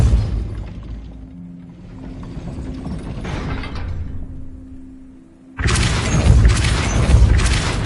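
Depulso spell in the Hogwarts Legacy video game, a quiet rumbling stretch followed by a sudden loud blast with crashing, shattering debris that keeps going to the end, with no talk.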